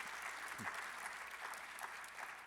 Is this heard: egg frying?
no